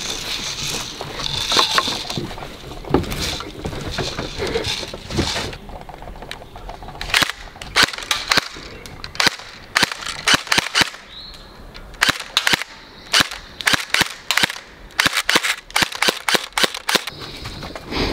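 Sharp gunshots from target practice crack out in rapid, irregular bursts, loud and close, with brief pauses between volleys and no talk over them.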